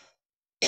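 A single sharp cough bursts out loud and close at the end, after a brief trailing breath and a moment of silence.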